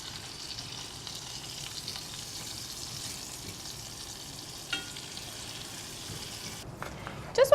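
Minced garlic fries in a pot for a Moroccan lamb stew, a soft, steady sizzle close by, broken near the end by a couple of louder clattering knocks.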